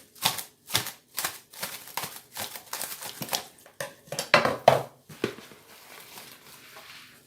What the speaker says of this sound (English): And I'll just cover this bowl with cling film.